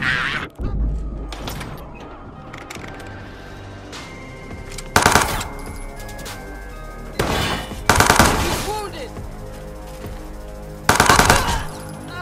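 Gunfire in the video game Watch Dogs 2, loud bursts of automatic fire breaking out in three separate volleys over a steady background of game sounds and mechanical creaks.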